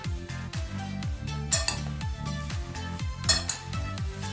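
Kale salad dressed with lemon juice being stirred and tossed in a bowl, a steady run of repeated scraping, clinking utensil strokes with a few sharper knocks, close up and with no voices.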